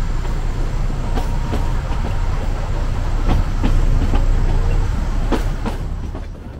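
Train running on the Kangra Valley narrow-gauge railway between Pathankot and Baijnath Paprola, heard from on board as a steady rumble with rhythmic wheel clicks over rail joints and a little faint background voice.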